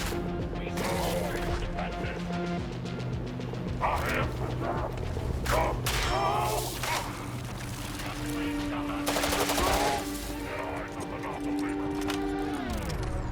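Gunfire in the video game Synapse crackles in bursts of shots and mechanical clacks over a steady game soundtrack, with a player talking now and then.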